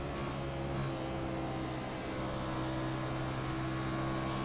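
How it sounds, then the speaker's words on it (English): A race car engine in an Xfinity Series race at Dover, heard in a racing video game, holds a steady droning hum at moderate distance, the throttle working in a sustained tone without sharp revs and with no talking. "you can hear him playing with that throttle"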